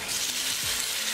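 Onions and tomatoes fry in a pan for a white chicken breast curry, a dense, even sizzle with a faint scrape of stirring, heard alone.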